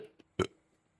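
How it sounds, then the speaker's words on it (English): A short, low, guttural burp, close and fairly quiet, preceded by a faint mouth click. "pardon me, I got a burp."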